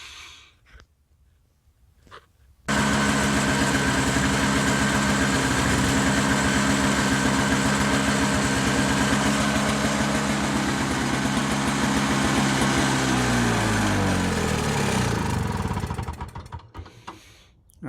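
A Toro snowblower engine runs hard and steady at close range to burn the fuel out of its carburetor, a loud continuous chugging roar that starts abruptly, holds for about twelve seconds, then sputters and winds down as the fuel runs out.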